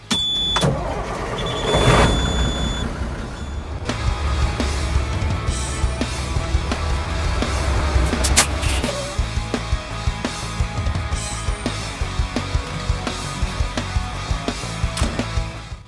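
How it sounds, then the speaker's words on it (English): An old Kenworth truck engine cranks and fires up, a loud mechanical whir and catch followed by a sharp burst, then settles into a rough, steady idle with rhythmic pulsing close by, no talking. "So let's get this old girl fired up and we'll get her backed in the driveway."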